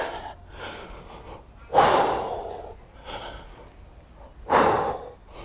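Hard, heavy breathing during a leg raise exercise in a bodyweight workout, close and loud, with two sharp forceful gasps rising over quieter rhythmic panting.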